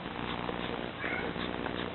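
A pet cat named Garfy purring steadily up close, a continuous low rumbling vibration with a soft, even rhythm and no voices over it.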